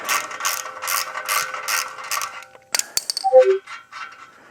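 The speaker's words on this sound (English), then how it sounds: "So let's take the clamp off first. I like to loosen it way up." A clamp is loosened on a Royal Enfield Himalayan motorcycle, giving a run of quick ratcheting clicks from a wrench, close and fairly loud, then a few separate metallic clinks and rattles as the tool and clamp shift.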